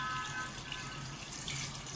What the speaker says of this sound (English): I am adding water